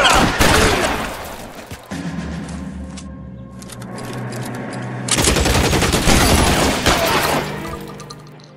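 Bursts of gunfire in the L.A. Noire video game, with rapid repeated shots cracking loudly at the start, a quieter stretch of rumble, then another heavy volley of shots near the end.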